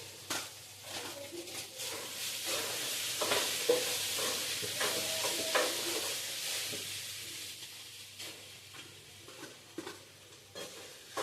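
Leftover cooked rice being tempered and fried with Schezwan masala in a pan, a soft ongoing sizzle broken by repeated scrapes and clinks of a spoon stirring against the pan, with faint voices in the background.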